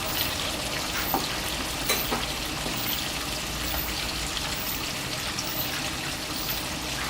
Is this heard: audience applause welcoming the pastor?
no